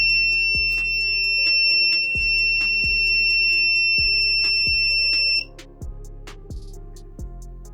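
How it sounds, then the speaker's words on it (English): A DIY transistor trip-wire alarm sounds as the wire is broken, a loud steady electronic tone that cuts off partway through, with regular low thumps underneath. "We can hear the alarm whenever we break the wire or we trip the wire."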